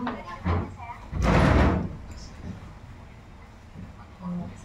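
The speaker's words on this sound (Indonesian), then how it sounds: "Tutup pintu dulu ya." A door in a clinic consultation room is pushed shut during a midwifery exam role-play, giving one dull, solid thud amid quiet room noise, with faint shuffling before and after.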